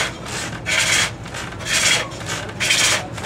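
Wood turning on a traditional lathe at a state fair, rhythmic rasping cuts in about four strokes, each a swelling scrape followed by a pause, close and fairly loud.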